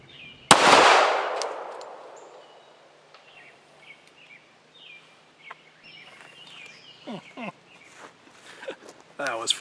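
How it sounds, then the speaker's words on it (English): A single loud .45 ACP pistol shot is fired into a grapefruit outdoors, a sharp crack with a long fading echo, followed by birdsong and light movement. "let's see if a grapefruit's got what it takes to be a YouTube star with the 45"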